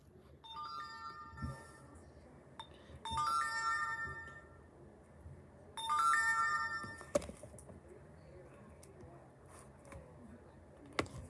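A mobile phone ringtone plays in two clear melodic bursts a few seconds apart, fairly loud against a quiet room, followed by a couple of small clicks.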